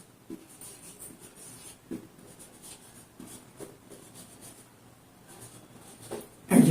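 Marker or chalk strokes on a board during an accounting class, soft scratching taps in a quiet, irregular rhythm, fairly faint and close, ending with a louder bump.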